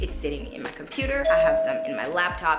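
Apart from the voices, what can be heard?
doorbell ringing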